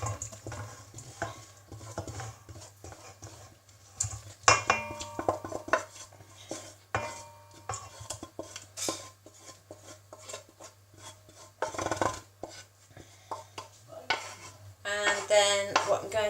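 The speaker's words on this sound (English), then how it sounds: "So I'm going to put it into my bowl." Mango chutney is scraped from a pan into a bowl, heard as irregular scraping, knocking and clinks of a utensil against cookware, with bursts of louder scraping near the end. No speech.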